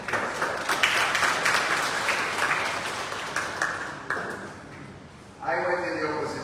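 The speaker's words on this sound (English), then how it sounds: "let me ask you to give them a round of applause" Applause from the audience at the Dominica Council on Ageing annual general meeting, a sustained wash of clapping at moderate level that thins around the fifth second before a voice comes in over it.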